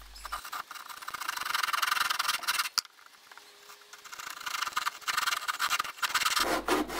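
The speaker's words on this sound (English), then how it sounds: "Then make some shallow saw cuts along the lines on one end." A hand saw making shallow cuts across the end of a wooden blank for a homemade wood lathe, a raspy rubbing stroke that pauses briefly midway, then resumes with uneven back-and-forth scraping.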